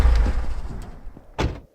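A car door in the Streamer Life Simulator video game closes with a single muffled thunk near the end, following a low rumbling game background.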